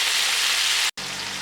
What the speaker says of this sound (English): you can still hear it sizzling merrily away